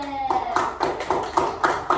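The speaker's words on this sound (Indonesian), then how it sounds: "kalau gitu tepuk tangan buat kelompok 2" A classroom audience claps for a presenting student group during a microteaching session, giving a short run of regularly spaced claps that sound moderately close, with a voice faintly underneath at the start.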